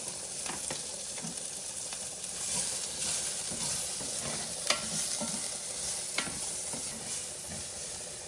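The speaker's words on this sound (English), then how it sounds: "Put the onions in and saute those for a minute." Onions sautéing in a pan for a teriyaki chicken stir-fry, a constant close sizzle with occasional scrapes and taps of a utensil stirring.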